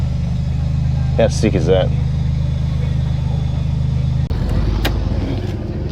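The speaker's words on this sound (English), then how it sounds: "look at this beast that's just turned up beside me. This lowrider Hilux." A lowrider Toyota Hilux idles nearby at a cars and coffee meet with a steady low engine drone. A person speaks briefly over it, and the tone shifts to a rougher rumble near the end.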